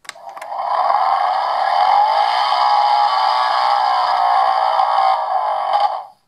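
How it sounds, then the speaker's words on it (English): Whooshing rocket effect from a toy Wreck-It Ralph race car with an ejection seat, triggered by pressing the steering wheel: a steady bright synthetic roar holding for about six seconds after a click, then cutting off abruptly. "Oh man, a rocket sound."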